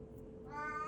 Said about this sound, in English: you can hear my kitty in the background